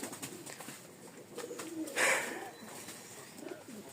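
Soft pigeon cooing with faint chirps over a quiet room hum, one slightly louder coo standing out midway.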